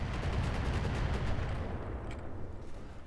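Weapon fire in the mech combat game RogueTech, with rapid overlapping booms and blasts rolling together in a dense, loud barrage that gradually thins toward the end.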